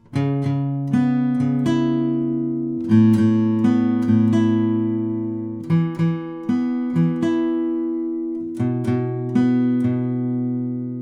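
Electric guitar playing the pre-chorus riff of a song, clear picked single notes and short note groups in a steady rhythm, close and alone without talk.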